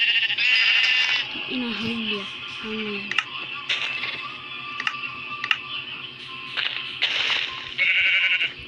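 A goat in a video game with villagers bleats twice in short wavering calls over keyboard clatter and game sounds, while a person talks.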